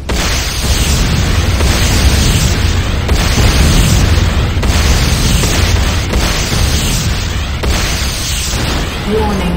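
A loud, sustained rumbling blast of a Nod Tiberium refinery being destroyed in the video game Command & Conquer Renegade, with heavy booming explosions continuing across the whole stretch.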